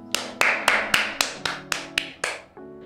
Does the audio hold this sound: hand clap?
yes